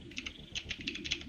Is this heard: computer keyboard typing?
yes